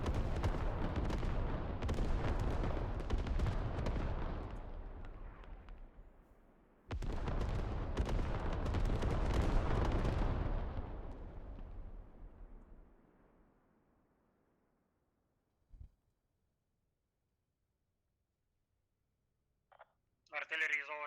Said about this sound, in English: Artillery is over, spread out from the HAB.